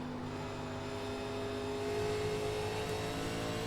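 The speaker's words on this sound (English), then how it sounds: "We've got a bunch of cars coming off the corner here." Pack of NASCAR stock cars in the iRacing video game coming off a corner at Daytona, a continuous, fairly faint engine drone with sustained tonal whine, rising slightly in the second half.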